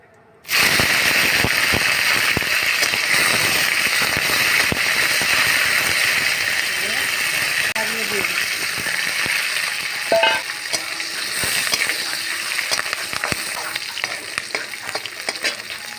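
Cumin seeds and chillies dropped into hot oil burst into a loud, dense crackling sizzle that starts abruptly and stays steady and close, with sharp popping spits throughout.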